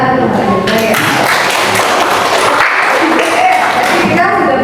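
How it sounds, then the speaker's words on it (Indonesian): A class of students applauds together, a loud, dense patter of many hands clapping continuously with voices mixed in. "Tepuk tangan dulu."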